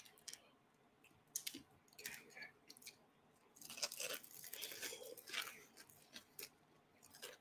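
Crunchy chicken tenders with honey mustard are chewed close to the mic, with soft irregular crunches and wet mouth clicks over several seconds, quiet overall and without talk.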